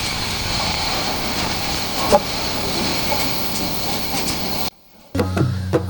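Train running along a railway line between Brahmanbaria and Comilla, a steady rumbling roar with hissing wind noise, heard from on board, briefly cutting out near the end before resuming.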